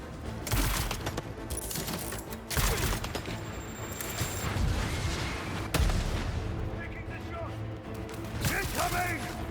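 Gunfire from enemy gunmen in the superhero action game Spider-Man 2: rapid, sustained shooting and heavy blasts mixed with game sound effects, near and fairly loud, with voices calling out over it.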